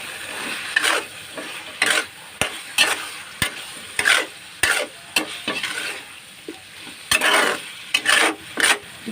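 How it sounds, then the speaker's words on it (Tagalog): Shrimp paste (alamang) sautéing in a pan, a soft continuous sizzle broken by repeated rhythmic scraping strokes of a spatula, close up with no talking. "Lulutuin ko muna maigi yung alamang bago ko ilagay yung gulay."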